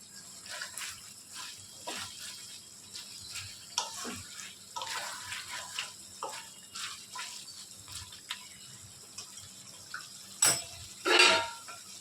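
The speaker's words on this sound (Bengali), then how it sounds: "এবার ঢাকনাটা সরিয়ে নিচ্ছি। সরিয়ে আবার একটু ভালো করে নেড়ে চেড়ে নিচ্ছি।" Chicken being stirred in a pot after the lid comes off, with scattered metallic scrapes and clinks of utensil on pot, ending in a louder clatter.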